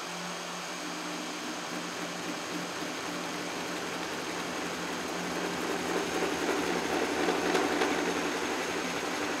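A milling machine takes a slow cut through a steel jaw for an Emmert 6A toolmaker's vise, a steady whirring machine drone with a faint grinding hiss that rises slightly toward the end, continuous and close.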